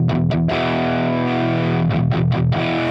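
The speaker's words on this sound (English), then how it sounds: "The first thing you hear is it's called natural overdrive" Electric guitar chords through a Nobels ODR-1 overdrive pedal ring out loud and sustained, with a few quick strums at the start and end, no voices.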